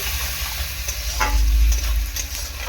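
Tilapia masala with salt, turmeric and chili powder sizzles in a pan as it is sautéed, with a louder burst of frying and scraping stirs midway, close and steady with no talking.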